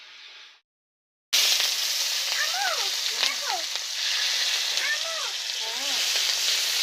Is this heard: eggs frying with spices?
yes